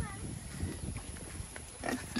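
A pig grunts in short, low bursts close by, mixed with background noise and a voice talking.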